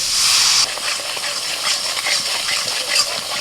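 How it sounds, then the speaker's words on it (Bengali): Ground turmeric, red chilli, coriander and cumin powders cooking down with a splash of water in a pan give a steady, loud, close hiss, fiercest in the first half second, then settling into an even sizzle with no talking. "অল্প একটু জল দিয়ে মশলাটা কষাবো"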